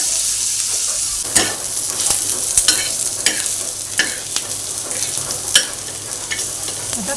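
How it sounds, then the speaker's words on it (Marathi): Onion sautéing in a pan for a spicy Malvani chicken curry: a steady sizzle with repeated sharp scrapes and clicks of a spoon as it is stirred. "आता कांदा छान परतून झाला आहे."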